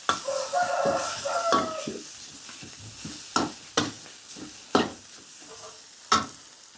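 Chopped fried sun-dried pork is stir-fried with red curry paste in a pan: loud sizzling and scraping at first, then a quieter hiss punctuated by distinct spatula strokes every second or so.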